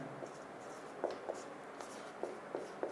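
Marker strokes and taps on a board, light scratchy scribbles at an uneven rhythm, close and fairly quiet with no talking.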